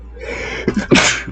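A single close, loud human sneeze, a short breathy intake followed by a sharp burst, heard alone.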